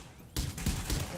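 A grenade goes off in a video game: a sudden loud broadband blast followed by a second of rumbling, crackling aftermath close by, with a voice faintly underneath.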